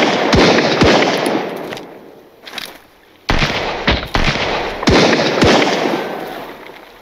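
Gunfire in the survival game Sunkenland: loud, sharp shots crack out in irregular bursts with reverberant booms, a brief lull midway before another heavy volley, no talking over it.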